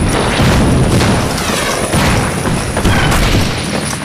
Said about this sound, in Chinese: 他们向我们北大营开火，用的重炮。